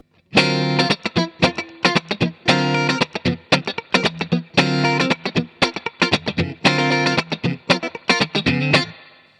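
Electric guitar played through an effects pedal with a short reverb, loud rhythmic chords in clipped stabs and repeated phrases, close and alone with no talking.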